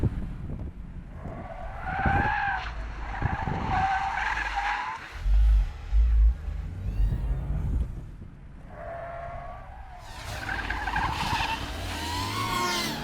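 A car drifts with long, loud tire squeals in two main bursts, the engine roaring and rumbling between them.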